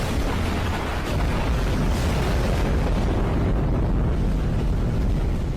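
Immense volcanic eruption of the Toba supervolcano, heard as a sustained, loud, broadband roar with deep rumbling that stays dense and continuous throughout, with no voices.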